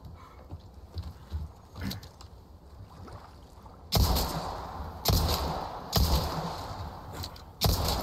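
Gunshots in the Resident Evil 4 Remake video game: four loud, sharp blasts spaced about a second apart in the second half, following quieter muffled thuds and game ambience.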